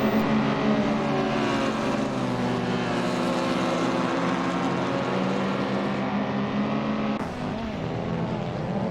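Racing saloon car engines in an Assetto Corsa video game race drone loudly and steadily as the cars drag side by side uphill at Oulton Park, with a dense multi-engine roar and a brief dip near the end.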